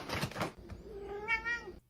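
A house cat trying to break into a bag of Meow Mix dry cat food lets out a single clear, close meow after a brief rustle.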